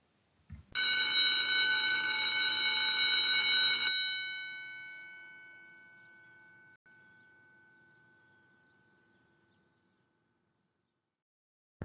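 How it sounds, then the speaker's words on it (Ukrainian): A school bell rings loudly and steadily for about three seconds at the end of a Ukrainian grammar lesson, then its tone rings on and fades slowly over several seconds into silence. "А ось і дзвоник."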